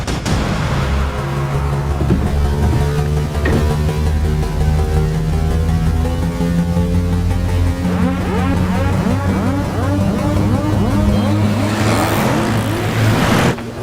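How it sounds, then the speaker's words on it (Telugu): A Scorpio SUV speeds past during a movie chase, its engine roar and passing whoosh rising loud and continuous over a dense background of music and effects. "స్కార్పియో హాస్పిటల్ లోపలికి వెళ్ళకుండా స్ట్రైట్ గా వెళ్తుంది"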